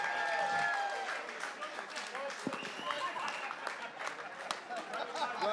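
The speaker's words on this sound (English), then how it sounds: "Give them a massive round of applause." An outdoor crowd applauds and cheers yacht race crews returning to London, a steady wash of distant clapping with voices mixed in throughout.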